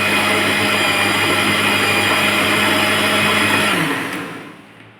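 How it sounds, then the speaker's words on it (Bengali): An electric blender whirs loudly and steadily, blending wood apple (bel) lassi with sugar, then winds down and stops in the last second. "ব্লেন্ডারে এটা ইউজ করে দিচ্ছি"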